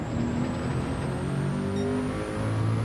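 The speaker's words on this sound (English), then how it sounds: "We're going to double shift and accelerate into third" A race car at Le Mans in Gran Turismo 7 revs hard and accelerates, its engine droning steadily and loudly at close range, with a faint shift in pitch as gears change.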